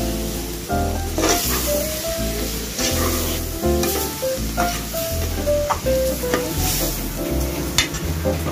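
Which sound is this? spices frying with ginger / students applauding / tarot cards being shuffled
spices frying with ginger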